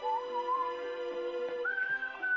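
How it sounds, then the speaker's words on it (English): A person whistles a steady, clear melody close into a microphone. The sustained tune slides up to a higher pitch partway through, with no talking. "Why are you whistling?"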